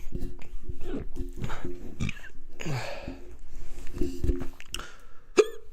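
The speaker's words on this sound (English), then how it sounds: "I got these weird hiccups right now." Hiccups from a person with a bout of them after sugary drinks, short abrupt catches scattered through casual talk, one sharp hic standing out near the end.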